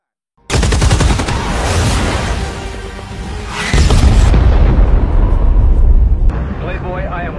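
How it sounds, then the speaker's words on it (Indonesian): Supersonic fighter jet firing its guns in sustained loud bursts, a dense roaring gunfire rumble with booming low end that swells louder midway before easing slightly near the end; a voice is heard over it. "Jet tempur dengan kecepatan supersonik ini kembali melepaskan tembakan."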